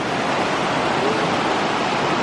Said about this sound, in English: This creek joins this creek and comes together, and it goes all the way around the campground.